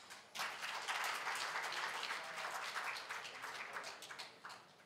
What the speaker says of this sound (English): Let's also give UDBA a round of applause